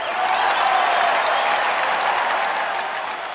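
A large crowd cheers for Queen Victoria after a Thanksgiving service at St. Paul's Cathedral, a loud, dense, continuous wash of clapping and crowd noise that fades slightly toward the end.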